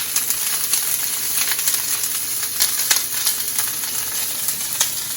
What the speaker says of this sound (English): a little bit of bacon grease in here just to brown the onions with